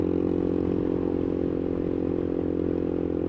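A motorcycle on the move, a steady loud low engine drone with a constant whirring rumble and no pause, the rider leaning weight on a foot peg to turn.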